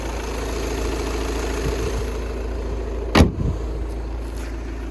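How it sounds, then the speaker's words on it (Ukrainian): A 2014 Volkswagen Passat B7 engine with DSG automatic gearbox idles steadily with a low, even rumble throughout, interrupted once by a brief sharp knock or thump. "двигун працює рівненько"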